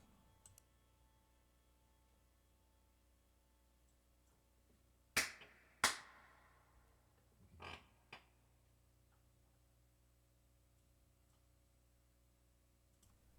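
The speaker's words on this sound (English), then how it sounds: "Tell me if you can hear me clapping." Hand claps sound in a quiet room: two sharp close claps, then two softer ones a couple of seconds later, isolated against near silence.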